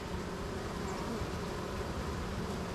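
Honeybees fanning at the entrance of a large, crowded hive during an inspection, a steady dense buzzing drone that holds evenly close by throughout.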